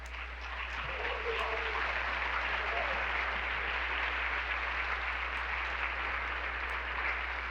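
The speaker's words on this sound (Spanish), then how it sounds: "Si va a aplaudir, aplauda, pero aplauda con gozo, con fuerza." Church congregation clapping in an even, sustained roar, fairly distant and soft, over a low electrical hum.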